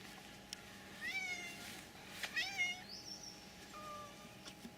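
A cat meows several times in short rising calls, close and fairly clear, over a steady low background hum, with a high squeaky chirp near the end.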